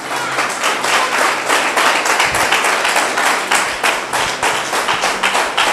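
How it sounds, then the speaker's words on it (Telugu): A church congregation claps loudly during a sermon, a dense, rapid, sustained round of applause from many hands held at a steady level throughout. "గట్టిగా చప్పట్లు కొడదామమ్మా"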